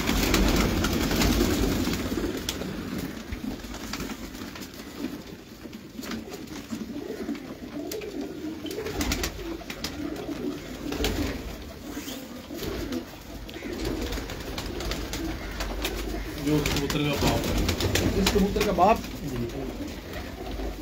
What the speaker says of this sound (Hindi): ये मेरे सलारे कबूतर है